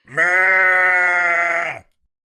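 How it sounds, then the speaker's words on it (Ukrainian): A single long sheep bleat, loud and close, steady for nearly two seconds before stopping into silence. "А ви знаєте, як говорить вівця?"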